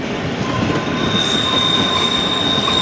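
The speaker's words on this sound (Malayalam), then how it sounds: "ട്രെയിൻ ഡീസൽ എഞ്ചിനാണ്. നിങ്ങൾക്ക് കാണാൻ സാധിക്കില്ല. ഇപ്പോൾ ഒരു പാലത്തിലൂടെയാണ് കടന്നു പോകുന്നത്." A diesel toy train on the Shimla line rolls across a bridge, a loud, steady metallic rumble with high squealing wheel tones held throughout.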